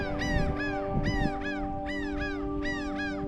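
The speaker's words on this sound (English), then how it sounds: "Let's show you the birds that are bitching at me." Two birds squawk at close range in harsh, repeated calls, about six bursts in three seconds, over a steady low hum on a sailing trip among Bahamian cays.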